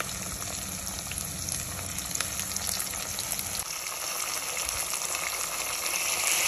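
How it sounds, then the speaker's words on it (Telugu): Onions and mixed vegetables frying in a pan for vegetable pulao, a soft, steady hiss and crackle with a low rumble that drops away partway through, fairly quiet and without voices. "నెక్స్ట్ అయితే ఆనియన్స్ బాగా చక్కగా ఫ్రై అయిన తర్వాత వెజిటేబుల్స్ అన్నీ వేసేసాం."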